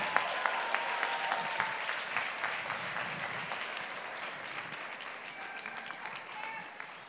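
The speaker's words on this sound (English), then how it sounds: "I appreciate that round of applause." Guests at a charity ball auction in 2023 give a round of applause, sustained crowd clapping with some sharper individual claps standing out, gradually fading, while talk carries faintly underneath.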